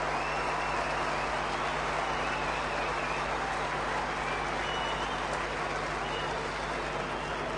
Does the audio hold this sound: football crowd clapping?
yes